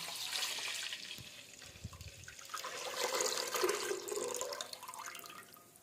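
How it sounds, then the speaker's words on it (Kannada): Milk pours steadily into a pressure cooker with a continuous splashing, gurgling rush that swells and fades, close by and without talk. "ಕುಕ್ಕರ್ ಒಳಗೆ ಉಯ್ತಾ ಇದೆ ನೋಡಿ"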